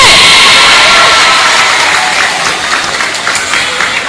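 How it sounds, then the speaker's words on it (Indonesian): Children applauding and cheering for their team at a religious talk, loud close clapping with shouts and cheers, strongest at the start and tapering slightly. "Tepuk tangan untuk regu B."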